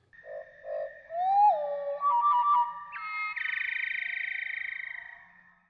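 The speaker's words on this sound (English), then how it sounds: "Now, the same song slowed down by 2/3." A slowed-down wood thrush song, deeper and drawn out: soft hooting notes, sliding whistles, then a long pulsing trill, alone and clear.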